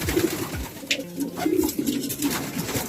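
Racing pigeons coo repeatedly in a loft, low rolling calls close by, overlapping in an uneven rhythm over a steady background murmur.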